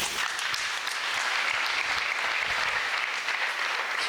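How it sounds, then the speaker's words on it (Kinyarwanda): A church congregation claps during a sermon, giving steady, dense applause that fills the room evenly for several seconds without any voices over it. "Mukomere Imana amashyi."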